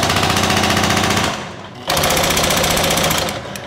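A 110-year-old hammering machine textures steel panels with a loud, rapid mechanical pounding that breaks off briefly, then resumes at the same fast, steady rate.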